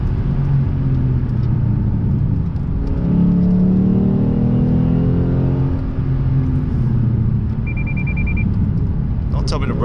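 A Lexus RC F V8 cruising on the road builds a rising, rumbling engine note that swells and eases under a steady road drone, with a brief high beep near the end.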